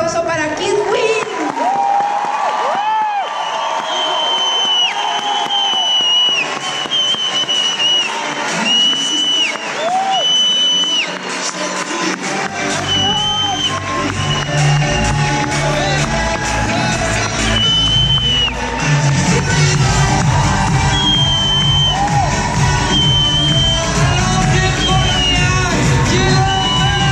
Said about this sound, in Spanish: Así que un fuerte aplauso para Kiet Nguyen.